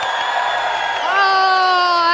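A live esports crowd at a pro gaming league event cheers and whoops loudly for a team, a sustained roar of many voices with rising shouts.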